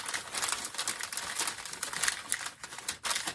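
A sheet of craft paper being gently folded and creased, soft continuous crinkling and rustling close by, quiet with no talk.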